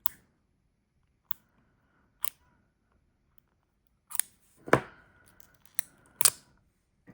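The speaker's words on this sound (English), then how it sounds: "These scissors have been through it." Scissors snip in sparse, short crisp clicks, a few isolated cuts and then a quicker cluster, close by in a quiet room.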